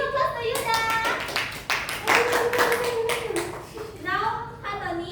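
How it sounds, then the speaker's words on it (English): A classroom of students claps for a classmate, brief bursts of hand claps mixed with a teacher's voice and children talking over them. "Give a clap to Yuda!"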